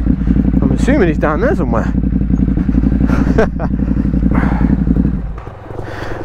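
A 2022 Ducati HyperMotard 950 SP motorcycle rides off road with a steady, loud engine drone that fades toward the end, while the rider talks over it.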